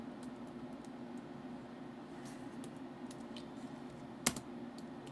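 Quiet, irregular clicking of typing on an HP dv5000 laptop keyboard over a low steady hum, with one sharper key tap standing out.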